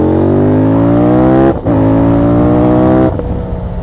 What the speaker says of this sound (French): Avec un son qui est phénoménal, des retours à l'échappement d'origine